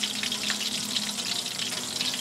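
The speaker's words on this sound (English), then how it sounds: "I'm just letting you enjoy the sounds of bubbles" Chicken frying in a pan for a quesadilla, a dense steady bubbling and sizzling heard close up and alone for a couple of seconds.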